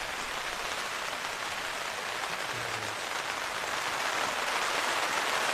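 Rain falls steadily on tarps over a dinosaur excavation site, a dense even hiss of drops pattering on the fabric, close and continuous without pause.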